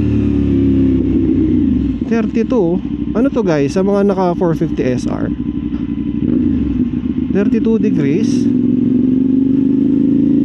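A CF Moto 450SR motorcycle engine runs loud and close with a steady low drone, while someone talks over it almost throughout.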